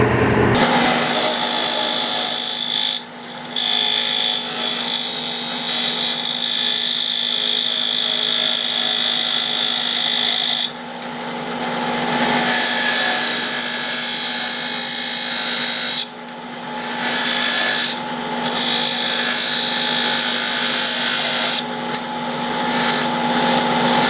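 Wood turning tool cutting a cylinder on a lathe, a loud, continuous whirring scrape with a steady motor tone, broken by short pauses as the tool lifts off the spinning wood.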